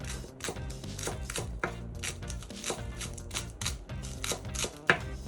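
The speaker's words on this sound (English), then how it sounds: "Then I'm going to chop my scallion." A knife chops scallion on a board in quick, steady strokes, each cut a crisp tap, with music playing softly underneath throughout.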